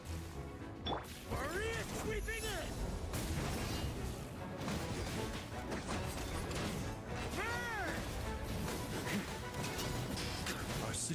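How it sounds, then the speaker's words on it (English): Heavy cannon-sword attacks in Genshin Impact land as repeated smashing and thwacking impacts with booms and whooshes, mixed with game music and character voices talking throughout. "Oh, he's got the cannon sword."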